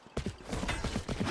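Weapon reload in a Valorant-style tactical shooter match: a quick run of close mechanical clicks and clacks, several short metallic snaps in rhythm over about a second, with no talk.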